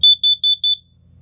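A Kidde ionization combination smoke and carbon monoxide alarm sounds four rapid, piercing high-pitched beeps in quick succession, loud and close, then stops.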